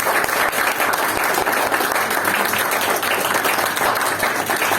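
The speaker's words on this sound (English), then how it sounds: "let's give them both another big round of applause" An audience at a Toastmasters club meeting in Brunei claps steadily in a continuous round of applause, loud and close, with no speech over it.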